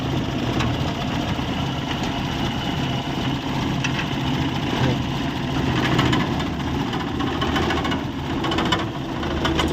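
The car engine idles with strong vibration and a worn silencer, giving a continuous close rumble with a slightly uneven, throbbing texture that holds steady for about ten seconds, alone and unaccompanied by talk.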